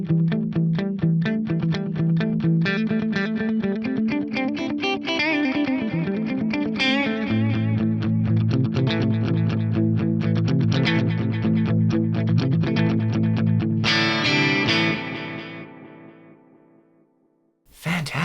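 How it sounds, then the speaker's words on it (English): A drum pattern runs through a Strymon Volante tape echo with the record level high, producing gritty, smeared repeats that build into a dense, saturated wash before fading out. "You'll hear these really nice gritty repeats."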